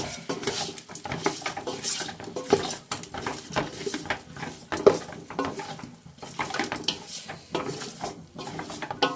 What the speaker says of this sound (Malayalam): എന്നിട്ട് നന്നായിട്ടൊന്ന് ഇളക്കി കൊടുക്കുക.